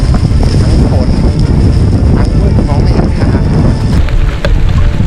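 Strong wind roars continuously on Mulayit Taung mountain in Myanmar, loud, buffeting gusts battering the microphone and filling the whole stretch with dense rumbling noise.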